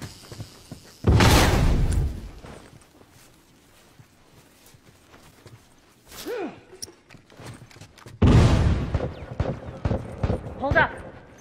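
Bomb blasts in the video game The Last of Us: two loud, sharp explosions with rumbling tails several seconds apart, a quieter burst between them, and brief voices calling out amid the combat.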